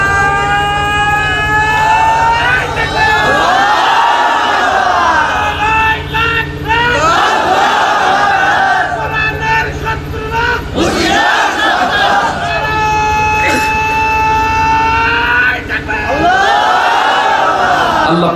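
At a Bengali religious sermon, a large crowd shouts slogans in unison in loud repeated waves, each roar answering a lead voice and swelling then fading several times in a row.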